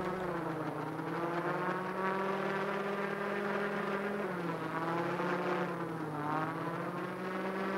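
Drone in the video game Rust, a steady, close buzzing whir of rotors that rises and dips in pitch as it maneuvers, with no talk over it.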